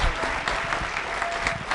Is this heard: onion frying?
no